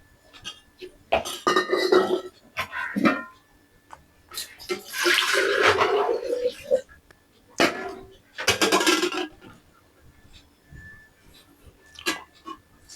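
Water poured into a cooking pot while making modak dough, splashing in irregular bursts with pauses between pours, close by, with some kitchen clatter and brief voices.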